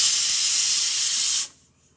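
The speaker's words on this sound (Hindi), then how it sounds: "और इसका हम आधा स्टीम निकाल देंगे।" Steam is let out of a pressure cooker on a gas stove while a vegetable tehri cooks inside, giving a loud, steady, close hiss that lasts about a second and a half, then cuts off abruptly into near silence.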